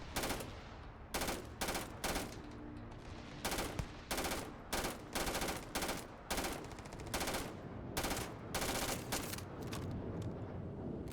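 Repeated bursts of automatic gunfire in the video game Starfield, loud and close, firing in short rapid volleys with brief pauses between them and no voices.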